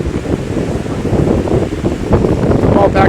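Strong gusts buffet and roar across a mountain campsite in the Sangre de Cristo Mountains, a loud, close, continuous rush with heavy microphone buffeting.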